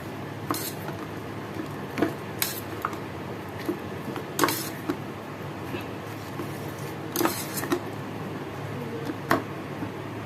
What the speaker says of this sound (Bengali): এবার সব একসঙ্গে নাড়াচাড়া করে নিলাম